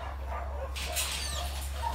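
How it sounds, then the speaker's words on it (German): Dogs at an animal rescue station in China, a busy mix of barks and whimpers, with a steady low hum running beneath them. "Und da seht ihr auch schon die ersten Hunde"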